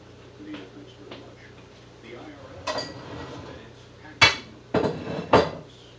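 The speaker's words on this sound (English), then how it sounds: "I'm going to go ahead and plate up this pasta" Dishes clatter as leftover pasta is plated, with soft handling noises followed by several sharp clinks and knocks of plate and utensils near the end, alongside a speaking voice.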